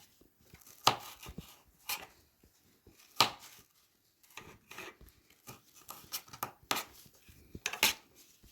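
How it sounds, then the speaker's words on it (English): A knife slices cucumber on a cutting board, making a series of sharp, irregular taps and scraping knocks against the board, close and fairly quiet with pauses between cuts and no talk. "I'm going to go across with my knife and slice"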